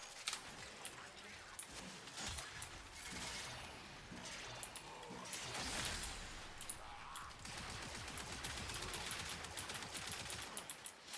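Rapid gunfire from the Athodai primary fire in the video game Warframe, dense bursts of shots with shattering impacts running almost continuously alongside other game effects.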